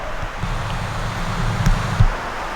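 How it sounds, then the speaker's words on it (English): Steady wind rushing through Davidstowe Woods on Bodmin Moor, broad and blustery with buffeting gusts against the microphone and faint rustling, no voices. "the wind's not too annoying"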